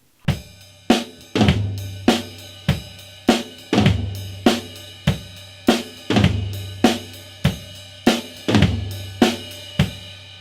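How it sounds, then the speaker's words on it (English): Drum kit groove played on the ride cymbal, with fat flams struck across two toms and bass drum hits, steady rhythmic pattern alone, close and clear. "I'm going to play the groove on the ride cymbal and I'm going to move the fat flam to 2 toms."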